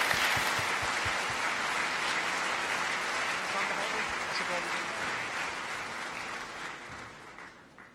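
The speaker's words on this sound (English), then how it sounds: "Let's give them a round of applause, people." Audience applause at a championship finals event: a dense, steady wash of clapping that gradually fades over several seconds, with faint voices underneath.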